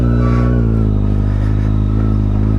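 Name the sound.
Kawasaki Z800 inline-four motorcycle exhaust note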